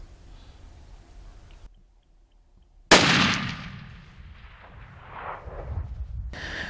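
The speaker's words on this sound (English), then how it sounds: "she makes what appears to be the perfect shot on a big black wildebeest" A single loud rifle shot from a 180 grain CX bullet fired at a black wildebeest, a sharp close crack that rolls off into a long fading echo across open country.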